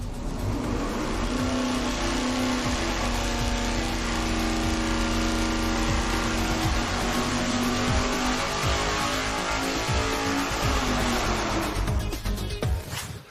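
A supercharged, nitrous-fed big-block Chevy making around 1,500 horsepower runs on an engine dyno. It pulls with a loud, continuous roar that holds a steady, sustained pitch, then cuts off abruptly at the end.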